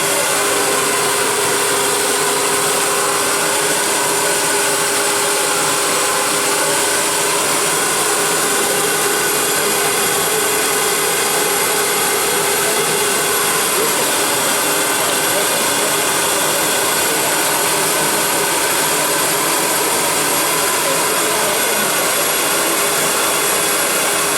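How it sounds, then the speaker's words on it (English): A vacuum cleaner runs on a dog, a loud, steady whining roar that continues unbroken from start to finish, heard close. "Turn on the vacuum again."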